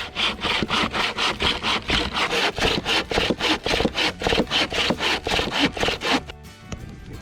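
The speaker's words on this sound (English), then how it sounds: "Just out here cutting some timber." A hand saw cuts through cedar timber for a campfire outdoors, about twenty steady back-and-forth strokes in an even rhythm, loud and close, stopping near the end.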